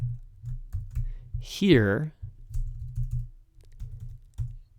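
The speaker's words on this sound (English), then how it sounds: "don't worry if you're not typing this as fast as I type it" Rapid, steady clicking of computer keys as someone types HTML code, close and fairly loud, with a brief spoken word partway through.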